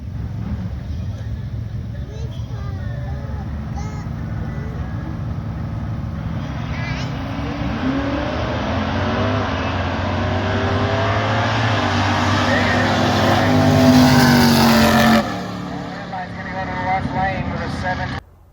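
A drag race car accelerates hard down an eighth-mile strip, its engine note climbing steadily and loudly over many seconds before cutting off abruptly near the end.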